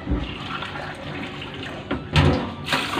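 Water is poured from a cup into a rice cooker pot holding basmati rice, with several short splashing pours, the loudest bursts near the end.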